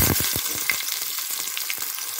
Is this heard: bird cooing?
no